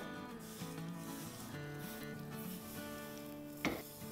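Broken vermicelli roasts dry in a pan over a medium-low flame, with a soft scraping rustle of stirring and one sharper scrape near the end, faint beneath quiet background music.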